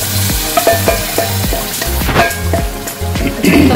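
Anchovy paste being stirred into tomato sauce in a pan for Italian pasta, a spoon scraping and knocking in repeated strokes over a steady close sizzle, with no talking.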